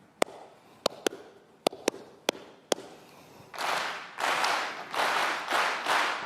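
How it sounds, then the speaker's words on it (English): One person claps a rhythm pattern of seven sharp, crisp hand claps, then a large audience claps it back in loud, broad bursts of massed clapping. "I'm going to clap a pattern."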